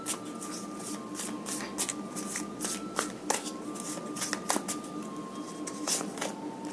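Tarot cards being shuffled by hand in a series of crisp riffling and sliding bursts, fairly close and steady for several seconds, with no talk.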